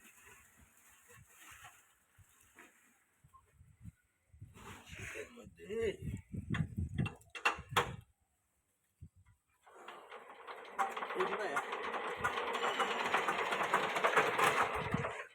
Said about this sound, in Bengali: এইবার পাওয়ার টিলার অনেক দিন পরে যখন স্টার্ট দিতে যায়